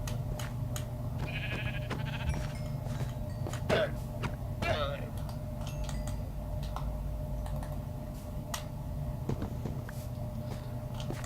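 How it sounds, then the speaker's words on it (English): Sheep in the video game Minecraft bleat a couple of times at moderate volume over a steady background of in-game ambience and light ticking. "There's a sheep, a couple of sheep and a llama"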